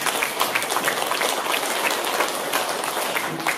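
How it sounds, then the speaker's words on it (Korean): Steady applause from a church congregation during a sermon, dense overlapping clapping at an even level throughout with no speech over it. "큰 감사의 박수를 한번 보내드립니다"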